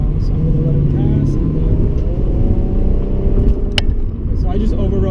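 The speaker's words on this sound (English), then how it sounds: "There's a Merc coming in real close to me, so I'm gonna let him pass." A Mercedes passes close alongside on the highway, heard from inside a 2018 Infiniti Q50 Red Sport 400 as a steady, loud road and engine rumble with a brief swell near the end.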